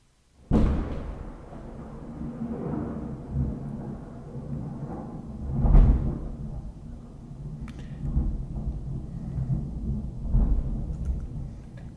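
Thunder from a bad early-morning storm rolling through, several deep rumbling claps about five seconds apart, the second loudest, with low rolling echoes and faint rain between them.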